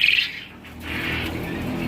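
Quail in a breeding pen for parent stock give a short, bright chirp at the start, then a low rustling background follows.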